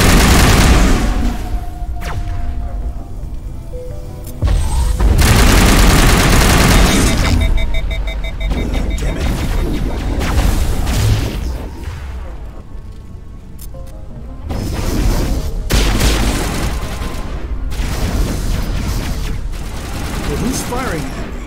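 Sustained gunfire and booming blasts from the video game Mass Effect, loud and near, with repeated volleys and crashing impacts rolling on continuously for over twenty seconds.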